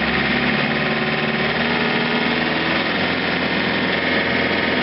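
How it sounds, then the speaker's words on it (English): A John Deere 2720 compact tractor's engine runs at raised throttle to power a snowblower, a steady, loud, continuous drone with no pauses or talk. "So we'll give her some more throttle."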